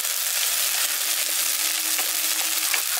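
Onion, ginger and garlic masala frying in a pan with a little water, a steady close sizzle throughout with faint stirring scrapes, no talking.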